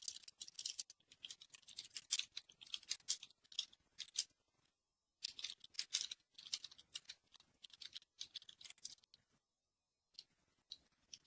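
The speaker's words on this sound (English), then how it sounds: "I was just typing." Quick, light clicking of typing on a computer keyboard during an online panel discussion, coming in irregular bursts with short pauses between them and a longer gap near the middle. The tapping is faint and sounds close to the microphone.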